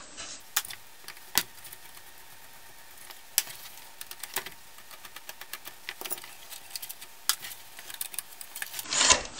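A screwdriver works at the innards of a Canon printer being taken apart, giving soft scraping and rubbing with scattered sharp clicks and ticks, close and quiet with no talking.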